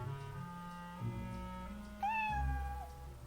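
A cat in a Twilight Zone radio drama lets out a couple of meows, the second a clear rising-then-falling cry, over a soft background musical drone.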